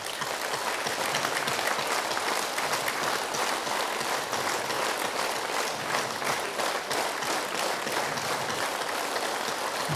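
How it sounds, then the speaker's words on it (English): Audience in Chennai clapping their hands together in unison to activate pressure points, a dense steady burst of many hands filling the whole stretch at even loudness, with no talk over it. "let us clap."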